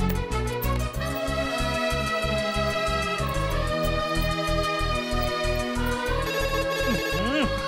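A phone's musical ringtone plays repeatedly, a bright looping tune with a rhythmic thumping beat beneath it, close and insistent.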